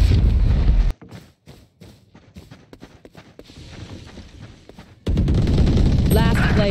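Bursts of gunfire in the Valorant shooter game, loud dense volleys at the start and again near the end, with quieter scattered shots and thumps in between.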